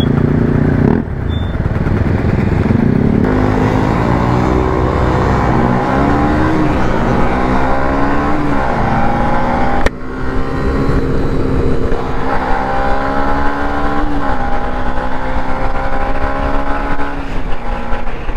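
Motorbikes, including a Yamaha R125, racing on a road: loud engines rev up and down repeatedly, with rising and falling whines and wind rush, close and continuous.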